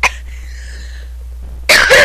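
A person coughs sharply twice, a short burst at the start and a louder, longer one near the end, with a quiet electronic game tone between them.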